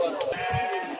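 Sheep bleat at a busy livestock market in Özgön, Kyrgyzstan, with wavering bleats rising over the steady murmur of a crowd and a voice talking.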